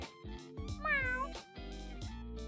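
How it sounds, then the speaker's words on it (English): A tortoiseshell cat named Karin meows clearly and repeatedly over steady background music. One longer, rising call sits in the middle among several shorter ones. "She is a tortoise-shell cat."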